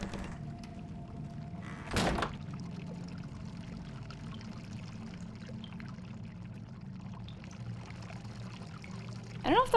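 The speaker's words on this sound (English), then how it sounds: "I don't know if the water should be flowing like that." Continuous low rushing and trickling of flowing water in the Crisol: Theater of Idols game, steady and moderately quiet, with a sharp thud near the start and a brief squeaky burst at the end.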